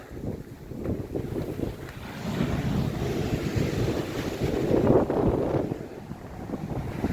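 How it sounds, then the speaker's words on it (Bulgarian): Huge storm waves crashing on the Burgas shore in strong wind, a loud continuous roar of surf with heavy wind buffeting the microphone. "Не е по-малко от 6 метра големина на вълните."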